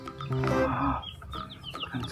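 A hen clucks and squawks close by at a nest with eggs, a drawn-out cackle followed by shorter clucks, with other faint bird noises around.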